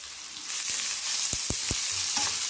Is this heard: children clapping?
no